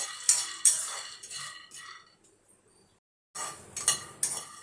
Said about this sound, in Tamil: இந்த வேர்க்கடலையும் இதே மாதிரி நல்லா வறுத்து எடுத்துக்கலாம்